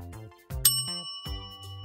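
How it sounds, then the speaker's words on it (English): An electric bell gives one bright, sharp ding whose metallic ring lingers for about a second, set among soft, low musical tones. "How does an electric bell work?"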